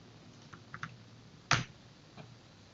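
Password keystrokes on a computer keyboard: a few light, scattered clicks followed by one sharper, louder tap near the middle and a faint final click, close and quiet, with no talking.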